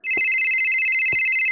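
A phone ringtone plays during a Minecraft game, a loud steady electronic tone sounding continuously, with two faint dull knocks beneath it.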